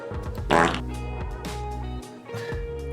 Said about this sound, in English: Can you guys hear the fart?